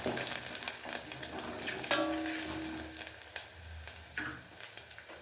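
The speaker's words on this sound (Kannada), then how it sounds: "ಶುಂಠಿ ಇವೆಲ್ಲ ಎಣ್ಣೆಯಲ್ಲಿ ಚೆನ್ನಾಗಿ ಫ್ರೈ ಆಗೋಕ್ಕೆ ಬಿಡಬೇಕು" Ginger and curry leaves fry in hot oil in a pan for a pumpkin palya, giving a steady close sizzle with the occasional scrape and stir of a spoon.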